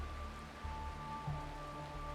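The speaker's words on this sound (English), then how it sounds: "This is the sound of rain." Rain falls in the Honkai Star Rail video game as a soft, steady patter with a low background drone, continuous and fairly quiet throughout.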